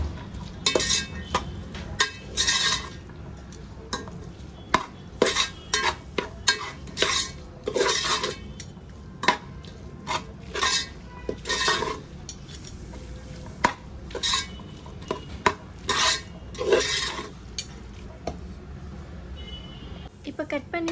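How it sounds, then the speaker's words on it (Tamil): Beans being stirred and sautéed in a pan for vegetable biryani, with repeated scraping and clinking of a metal spoon against the pan and a light sizzle, while someone talks over it. "பீன்ஸ் இப்போ இதையும் போட்டு நல்லா வதக்கிக்கலாம்."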